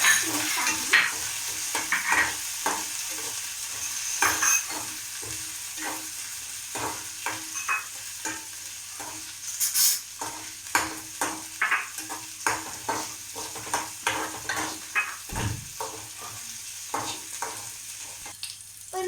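Ginger stirred and fried in hot oil in a pan for a ginger mango pickle, a steady sizzle broken by repeated scraping stirs of a spoon against the pan, close and continuous throughout.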